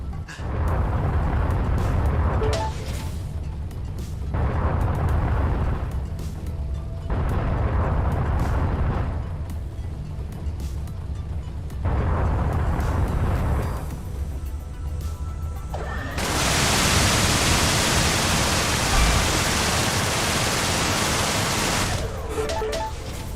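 Explosions in a video game come as a series of loud, sustained roaring bursts that swell and fade, with a longer, harsher blast near the end, and no voices.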